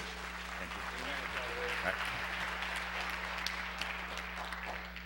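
A church congregation applauds as an elder comes forward: faint, distant, even clapping spread across the room, soft and steady over a low hum, with no distinct voices.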